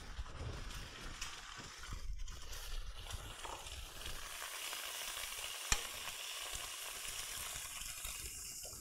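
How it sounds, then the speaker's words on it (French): An egg fries in a pan for a burger, giving a soft, even sizzle that holds throughout, fairly quiet and close, with one brief sharp click partway through and no voices. "je vais mettre mon œuf dedans. Alors on va de quoi casser l'œuf pour faire un œuf sur le plat."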